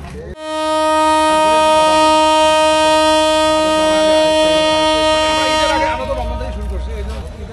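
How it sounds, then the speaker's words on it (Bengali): The Ekota Express gives one long, loud, steady horn blast at Parbatipur station at night before departure, lasting several seconds and then cutting off into engine rumble. "হুইসেল বেজে গেল রাত 12:10"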